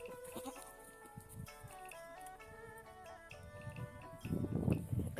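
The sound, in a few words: Nubian and LaMancha goats bleating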